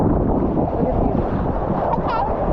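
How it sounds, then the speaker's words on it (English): Intense ocean waves roll and crash at a beach in a constant loud roar mixed with microphone wind buffeting, and a brief voice cuts in near the end. "she was really enjoying these waves. They are pretty intense today."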